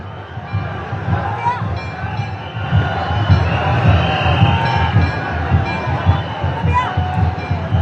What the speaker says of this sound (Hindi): भारी भीड़ यहां पर देखी जा रही है